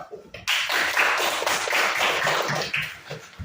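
A grade-six class claps for a presenting group, a burst of many hands starting abruptly, uneven and clattery, fairly close and lively, thinning out near the end.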